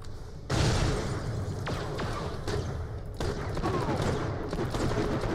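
Gunfire from a weapon in the video game Borderlands the Pre-Sequel, a dense rapid volley of shots with booming impacts that continues steadily through the clip, loud and close.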